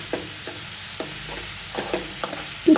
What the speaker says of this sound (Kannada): ಅದ್ರ ನಂತರ ತೆಂಗಿನ ತುರಿ ಹಾಕಿ ಮಿಕ್ಸ್ ಮಾಡ್ಕೊಳ್ಬೇಕು.